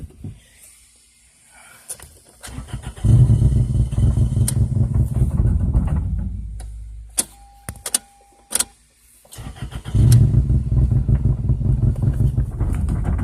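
A 2002 Toyota Corolla LE with a bad motor cranks and catches, idling roughly in uneven low bursts that surge and fade, with sharp clicks and knocks between; close by, no talk.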